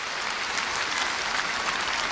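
Dense, even applause fills a charity concert hall, a steady wash of clapping from a large audience with no other sound standing out.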